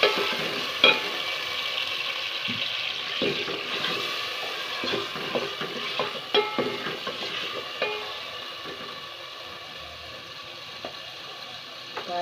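Chicken frying with ginger garlic paste and green cardamom, stirred steadily in the pan: a continuous close sizzle with repeated scraping and rattling strokes of the spoon throughout.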